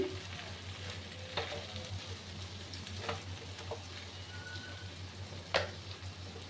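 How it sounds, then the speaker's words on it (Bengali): Diced potatoes and fish roe sizzling and being stirred dry in a pan, a steady low crackling fry punctuated by several sharp scraping stirs of the spatula, close and moderately quiet, with no talking. "সময় নিয়ে কিন্তু আমি কষিয়ে নেব, একদম ড্রাই হবে এই আলু আর মাছের ডিমের রেসিপি"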